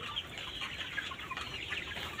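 Chickens cluck steadily on a poultry farm, a dense, close flock murmuring without pause, with no talking over them.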